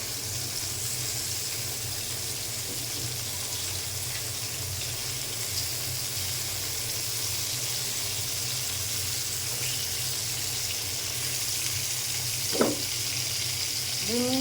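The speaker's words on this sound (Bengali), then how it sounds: "মাছ ভাজা এখন ফিরিয়ে দিলাম।" Fish frying in a pan gives a steady, quiet sizzling hiss that holds evenly for a long stretch, with one brief sharper pop near the end and no talking.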